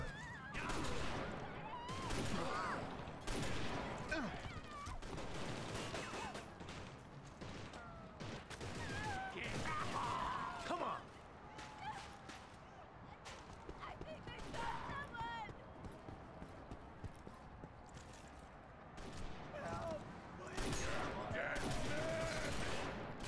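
Gunfire in the video game Inversion rattles in rapid bursts and sustained volleys, loud and close, with shouting voices and grunts mixed in among the shots.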